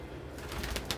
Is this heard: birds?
yes